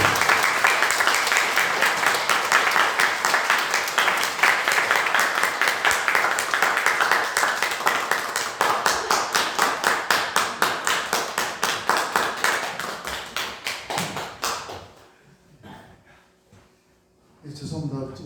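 Congregation applauding in a church service, a dense sustained round of many hands clapping that thins into scattered claps and fades, then a brief burst resumes near the end.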